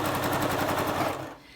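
A sewing machine stitching a cloth face mask runs in a fast, even mechanical rattle close by, then slows and fades out near the end.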